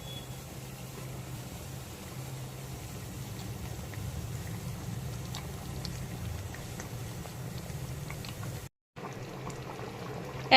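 Chicken and potato curry in a kadai, made with hot water, is just starting to boil, giving a quiet, steady simmering hiss with a brief break near the end.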